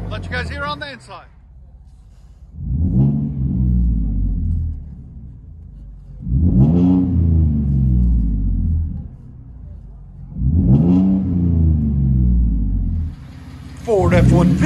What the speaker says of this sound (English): Ford F-150 with Flowmaster Outlaw and a 5-inch tip, straight pipe all the way back after that.